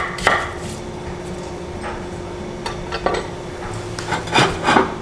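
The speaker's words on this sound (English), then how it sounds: "I'm gonna start by chopping an apple" A knife cuts through an apple on a board for oatmeal, giving scattered crisp chopping knocks and scraping rubs at an uneven pace, close and fairly quiet.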